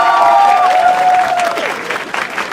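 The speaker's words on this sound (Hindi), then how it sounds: "जोरदार ताली हो जाए।" Loud audience applause and cheering fill a live show studio, a dense steady wash of clapping with a few whoops, tapering slightly toward the end.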